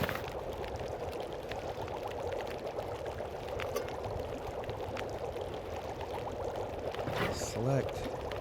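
Water is made in The Long Dark survival video game, a soft continuous pouring, bubbling sound that carries steadily throughout, fairly quiet, with a brief watery gurgle near the end.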